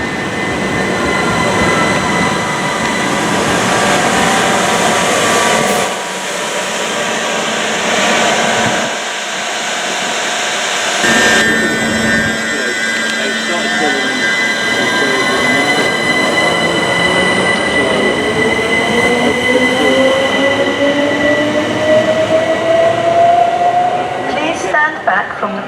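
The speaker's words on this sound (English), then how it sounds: "The next train at platform 7 does not stop here." A Class 377 electric multiple unit runs through a platform at Watford Junction station without stopping. A loud, sustained rumble of wheels and motors lasts throughout, with squealing tones and a rising whine as the train passes close by.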